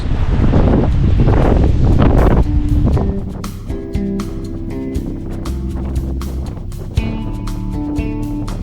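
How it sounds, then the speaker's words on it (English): Loud, roaring wind gusting up to 20 to 25 miles an hour at a boat ramp buffets the microphone in strong gusts, easing slightly after a few seconds, no talking. "Really windy. It was gusting up to 20 to 25 miles an hour today."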